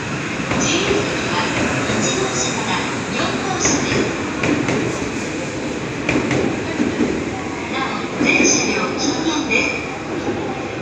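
A Shinkansen bullet train departs a platform bound for Shin Osaka: a continuous loud rolling rumble and hiss with faint wheel squeal, under station announcements.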